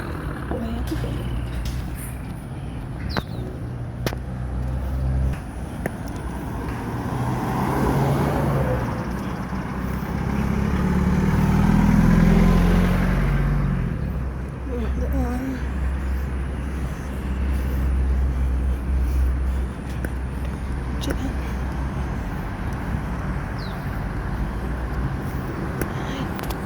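Cars and trucks pass along a road in the early morning, a steady traffic rumble that swells as a vehicle goes by near the middle and then settles back to a continuous drone.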